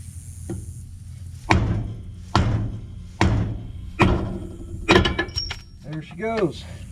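Five heavy metallic hammer blows land on a junkyard differential pinion at a steady pace, each a sharp close clank, followed by a short spoken remark.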